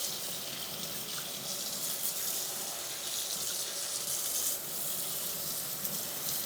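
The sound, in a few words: rinsing bass bow hair under running tap water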